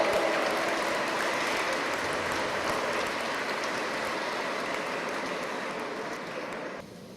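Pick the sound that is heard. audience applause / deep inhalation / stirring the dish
audience applause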